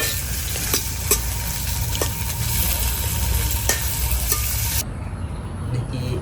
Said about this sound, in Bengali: এখন জালির সাথে সরিষা বাটাটা ভালো করে মিশিয়ে নিব।